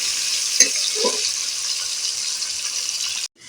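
Capsicum stir-frying in a pan for fried rice gives a steady, fairly loud broadband sizzle, with a couple of soft clinks of stirring near the start before the sound cuts off abruptly.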